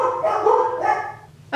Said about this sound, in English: my smallest, tiniest dog decided she was going to be vocal